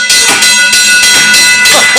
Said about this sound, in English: It's got a little hand lever that you can put in there, and it runs the bell up front.